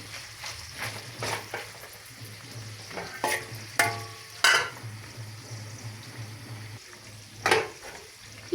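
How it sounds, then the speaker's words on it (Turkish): Lamb meat fries in butter in a pan, a moderate sizzle with intermittent sharp scraping and stirring knocks over a low steady hum. "Çıtır çıtır kavruluyor arkadaşlar. Biraz da tereyağıyla kavrulsun."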